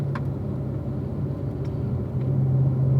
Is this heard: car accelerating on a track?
yes